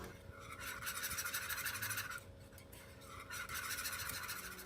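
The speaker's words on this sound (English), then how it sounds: "Please make sure you are stirring consistently as it is cooking so it will not stick to the bottom of the pot" Steady stirring of Jamaican vegan peanut porridge in a pot, a soft rhythmic scraping and rubbing in two long strokes with a brief pause between, close and fairly quiet.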